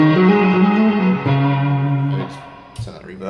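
Victory V40 Duchess guitar amplifier played with reverb switched on, sustained electric guitar chords ringing out with a lush wash of reverb, loud and close, tails decaying before a final brief strum.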